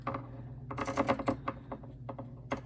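Pinking shears snip through fabric in a quick series of crisp, close crunching cuts, with short pauses between bursts and a faint hum underneath.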